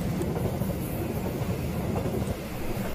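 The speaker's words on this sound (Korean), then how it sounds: "지금 전철이 서서히 플랫폼으로 들어오고 있네요." A Line 1 subway train rolls into the station platform, a loud, steady rumble of wheels and rail noise filling the whole stretch without pause.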